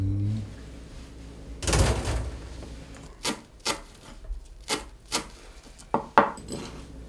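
Seasoned Tongyeong jangji jeotgal being mixed together by hand in a bowl, with a rubbing rustle, then a run of short, evenly paced knocks and clinks against the dish, close and fairly loud.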